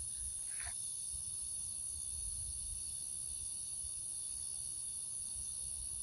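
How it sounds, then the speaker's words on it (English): Cicadas buzz by a Texas lake, a steady high-pitched drone running unbroken through the whole stretch with low rumble beneath and no talk. "Cicada."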